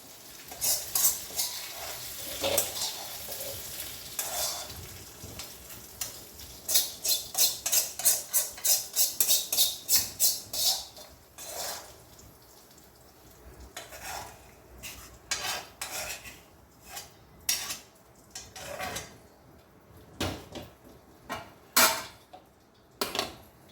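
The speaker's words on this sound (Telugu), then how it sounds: "పచ్చిమిర్చి అనేవి వేగిపోయినాయి ఇప్పుడు ఇది మనం ఒక ప్లేట్లో తీసేసుకుందాం" Fried green chillies stirred in a pan and shifted onto a plate: rapid rhythmic metal scraping and clinking over a light sizzle, then scattered knocks and clanks, close by with no voices.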